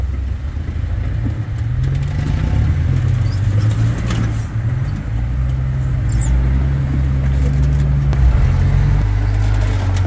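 A 1943 Willys MB jeep pulls away on a steep desert trail at Bronco Falls near Logandale, Nevada, its engine chugging loud and close in a low steady rumble that shifts pitch slightly, with light rattles over it.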